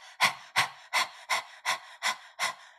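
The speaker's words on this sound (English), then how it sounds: "I'm sticking my tongue out and I start panting like a dog." Person panting rapidly like a dog with tongue out, as in breath-of-fire breathing: seven quick, evenly spaced breathy huffs, close and fairly loud, no talking.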